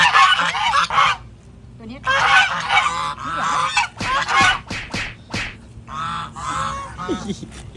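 Loud, repeated honking quacks from several ducks nearby, coming in bursts and overlapping each other against faint outdoor background.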